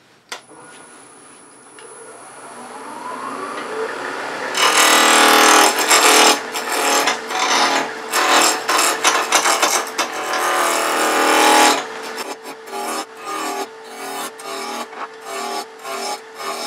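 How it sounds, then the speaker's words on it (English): Very hard persimmon wood, slightly cracked, being roughed out on a lathe; a loud, close, harsh scraping roar that starts abruptly, swells and fades in bursts, then turns into a rhythmic series of chattering strokes, with no talking. "we're going to just rough out this nice piece of persimmon, very hard wood"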